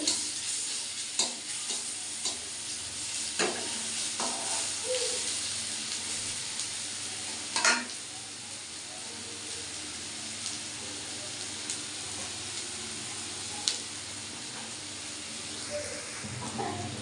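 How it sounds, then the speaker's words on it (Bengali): Garlic fries in oil in a kadai wok while cooking taro greens, giving a steady close sizzle broken by occasional clinks and scrapes of stirring. "রসুনটা এইভাবে ভাজা ভাজা হয়ে গেলে"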